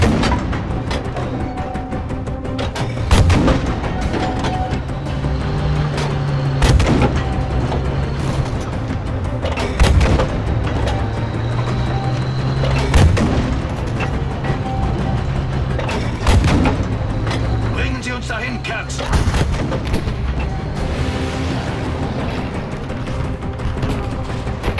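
Battlefield V combat: scattered heavy thumps and booming artillery-like blasts every few seconds over constant rumbling engine and battle noise, with no speech.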